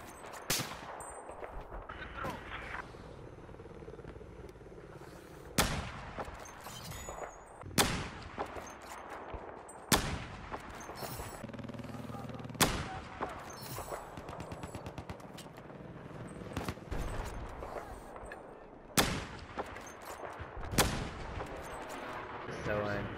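Gunfire in a Battlefield 4 match: repeated sharp rifle shots and bursts crack out at irregular intervals over a background of battle noise, with occasional voices.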